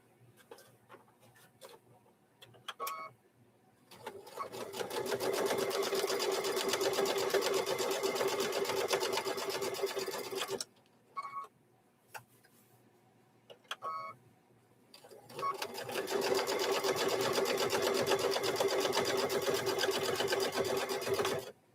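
A sewing machine stitches the starting seam of a fabric microwave bowl koozie in two long steady runs, loud and close, with a short pause of handling noise between them.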